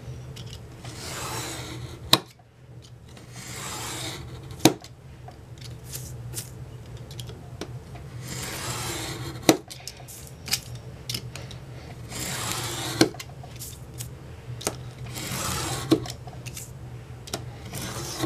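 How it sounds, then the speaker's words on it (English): Excess paper being trimmed off a handmade hardcover notebook, repeated scraping, rubbing cuts in slow strokes with occasional sharp clicks, close and moderately quiet with no speech. "So I'm gonna go ahead and cut off the excess"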